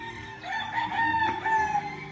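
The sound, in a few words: gamefowl rooster crowing at gamefarm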